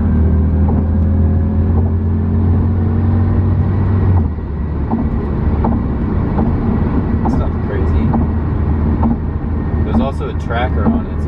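A ten-year-old Audi S5 engine drones steadily inside the car, then the tone drops as it downshifts into third gear while road noise continues and voices talk over it.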